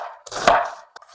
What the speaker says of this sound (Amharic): አሁን ይሄን ከትፋለሁኝ። ተለቅ አድርጌ ነው የምከትፈው።